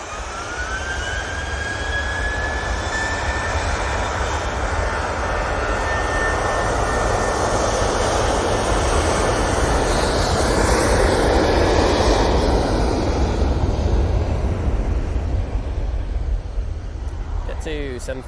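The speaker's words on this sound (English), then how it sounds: "To 737 now on the roll, going off to Venice." A Boeing 737 airliner builds power on its takeoff roll at Manchester Airport, a loud sustained jet engine roar with a rising whine, steady across the whole stretch while a voice talks over it.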